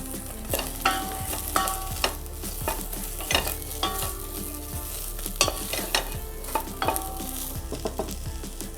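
Carrots stirred in ghee in a home pan for a vegetable clear soup: continuous sizzling broken by repeated sharp scrapes and clinks of the spoon against the pan, with no talk.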